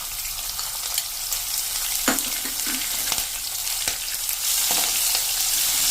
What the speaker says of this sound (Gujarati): અને એને સહેજ આપણે આ રીતે રોસ્ટ કરી લેશું.